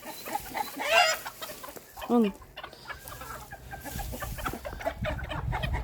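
Chickens on a farm cluck and squawk nearby, with a few sharp calls standing out among steady background clucking and scratching.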